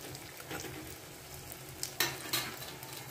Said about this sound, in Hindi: ये देखिए उलट पलट के हम इसको, इसको धीमी आंच पर ही पकाना है।